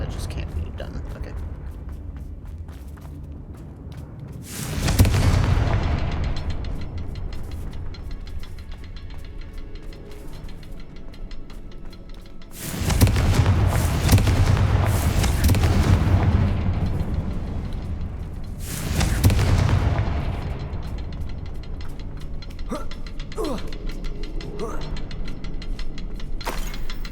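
Confringo spells in a Harry Potter video game burst into three loud, booming explosions several seconds apart, the middle blast the longest, with quieter game ambience between them.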